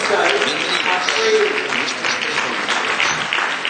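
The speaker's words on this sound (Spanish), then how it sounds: "Por favor, que suban al escenario con un aplauso." A conference audience at a business talk claps to welcome volunteers onto the stage, producing a sustained, fairly loud patter of applause with a voice faintly audible underneath.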